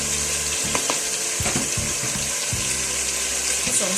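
Mixed vegetables and beef sizzle in a pan with a continuous bright hiss, while a utensil scrapes and knocks in short irregular strokes as the food is stirred.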